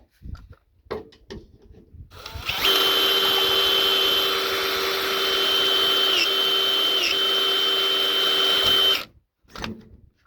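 A whining, failing electric drill motor runs steadily for several seconds, close and loud, with small dips in pitch, then stops; light handling noises before and after.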